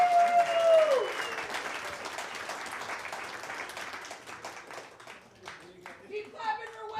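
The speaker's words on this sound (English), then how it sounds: "Please clap very loud for Wade Swarmstead" A comedy club crowd claps for the next comic being brought up, a sustained wash of applause starting loud under a host's amplified voice and gradually thinning out as it fades.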